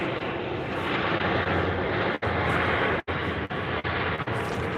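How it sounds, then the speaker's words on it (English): An airplane passing overhead outdoors near a boat, a steady broad engine roar that stays loud and constant for several seconds with a few brief dropouts, no voices. "Let's see what happens if planes are going by."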